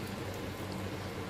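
Boiling water poured into a pot of seared meat with thyme, rosemary, garlic and onion, giving a steady, even splashing rush that runs unbroken through the moment.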